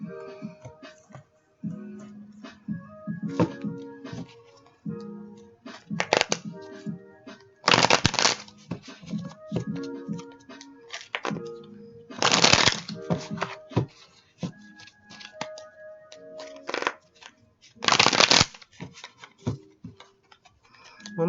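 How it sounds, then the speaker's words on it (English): Tarot cards shuffled by hand in repeated bursts of riffling and sliding, with sharper louder riffles recurring every few seconds and soft card taps between them. "One more shuffle here for me,"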